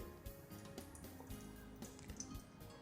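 About two spoonfuls of cooking oil poured into a shallow pan, a soft close trickle with small drips and liquid splashes.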